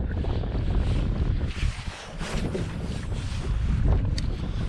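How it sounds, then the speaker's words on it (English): Strong wind blowing by the water near a naval air station in Pensacola, Florida, a loud continuous rush buffeting the microphone, with gusts and faint water sounds beneath. "That wind is really strong right now, really strong."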